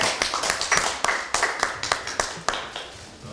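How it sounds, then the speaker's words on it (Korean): Audience clapping at a party's joint supreme council and national committee chairs meeting as a committee chair receives flowers, with a fairly even, rhythmic run of sharp claps over a few seconds. "큰 박수 부탁드립니다"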